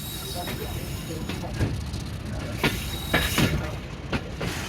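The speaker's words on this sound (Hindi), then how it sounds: "ये पैसेंजर ट्रेन है" Inside a passenger train running from Rawalpindi toward Havelian, a low rolling rumble continues with intermittent clanks and wheel knocks, and a voice talks over the train noise.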